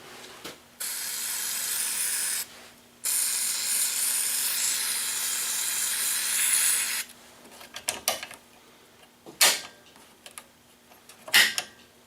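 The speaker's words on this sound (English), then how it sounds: "let's give her a spray and some brake cleaner first" Brake cleaner sprayed from an aerosol can into part of a 110TLB tractor gives several long, steady hissing bursts, followed by short clicks and rattles of handling the part.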